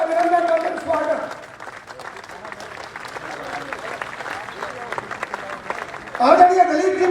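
Audience at a village political rally in Malkheda, Haryana, bursting into sustained rapid applause to welcome Kuldeep Bishnoi, a dense patter of many hands between stretches of someone speaking loudly over a PA.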